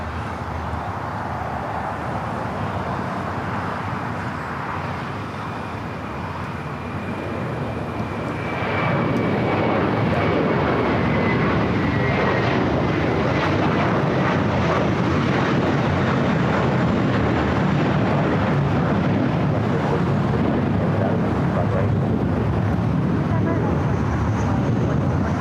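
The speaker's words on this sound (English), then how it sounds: "Next takeoff here on the Southside, flight heading to Chicago here, American Airlines flight 1595." An American Airlines Airbus A321 jet takes off at LAX, its engine roar swelling from a steady hum to a loud, sustained rumble and whine, while someone talks over the noise.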